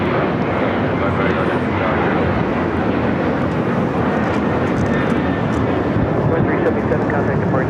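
An airliner taking off from runway 25 right at LAX, a loud, continuous broadband jet roar heard from nearby, steady throughout, with faint radio chatter beneath.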